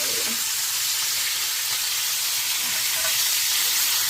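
Stuffed salmon sizzling in a pan just after a flip, a steady, dense frying hiss that runs evenly throughout with no talk.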